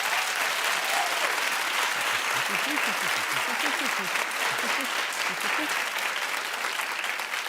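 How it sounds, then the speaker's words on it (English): A studio audience on a TV talk show applauds in a dense, sustained roar of clapping, loud and steady throughout, with faint voices and whoops scattered underneath. "Clap if you haven't seen one episode this season."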